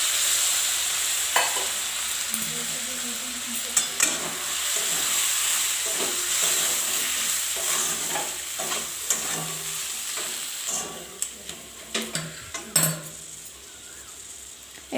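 A spice masala of turmeric and chili powder sizzles loudly in a pan with a splash of water while a spoon stirs it. The hiss is steady at first, then spoon scrapes and knocks come quicker and sharper as the hiss eases.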